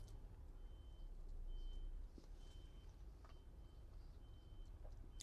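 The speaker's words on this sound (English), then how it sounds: "Sorry for the lorry in the background." A lorry reverses somewhere outside an open window, its faint, evenly spaced beeps sounding far off over a low rumble of distant traffic.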